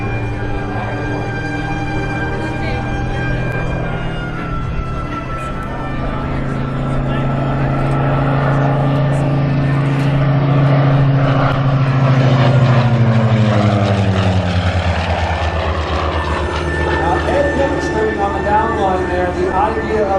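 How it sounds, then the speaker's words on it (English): A Helldiver propeller warplane's engine drones loudly and steadily at an air show in Geneseo, its pitch swelling as it passes close overhead, with someone talking over the noise. "It's a whole lot of airplane to move through the air."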